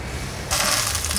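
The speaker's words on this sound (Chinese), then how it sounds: "把豆包放进来煎香。" Bean curd sheet laid into a flat pan with a little oil: after a quiet half-second, a sudden bright sizzle and crackle bursts up and holds steady and close.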